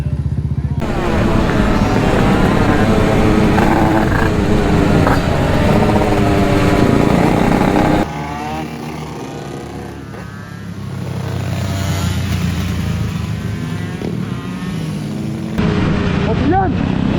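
A 100cc 2Fast FLR motorcycle at full throttle from the rider's position, the engine droning loud and continuous with pitch shifts through gears, a drop in intensity midway, and heavy wind noise.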